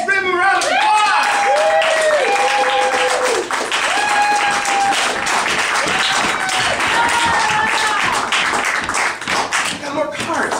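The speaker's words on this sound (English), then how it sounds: "Give them a round of applause." Audience applause welcoming the cast of a show onto the stage: lively clapping from a crowd, with whistles and cheers mixed in, sustained throughout.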